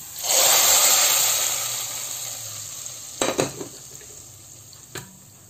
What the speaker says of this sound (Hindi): आप इसकी आवाज़ सुनिएगा इतनी ज़बरदस्त लगती है ना जब इसके अंदर तड़का जाता है